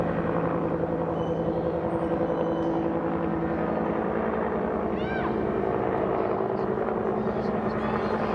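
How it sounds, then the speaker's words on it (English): A helicopter passing over a junior girls' under-15 football gala day, a steady droning rotor hum throughout, moderately distant, with a commentator's voice and crowd murmur over it. "There goes the chopper."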